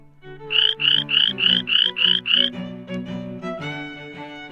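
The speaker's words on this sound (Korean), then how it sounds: "아론이 모세의 지팡이를 받고 팔을 펼치자 개구리가 가득하게 되었습니다" Frogs croak in a staged Bible play about Moses, seven loud, evenly spaced croaks in a quick rhythm over a sustained musical backing, followed by softer tones.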